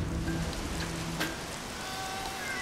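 Rain falls steadily in The Bee Movie Game, a soft continuous patter with a brief sharper splash partway through, heard alone without talk.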